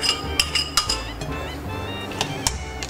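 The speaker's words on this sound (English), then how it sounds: "Give this a stir." A spoon clinks against a bowl while a milk and yeast mixture is stirred, giving several light, close metallic taps in an uneven rhythm over a soft background.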